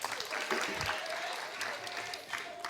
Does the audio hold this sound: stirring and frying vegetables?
no